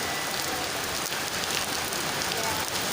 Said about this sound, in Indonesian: Hujan nih, hujan.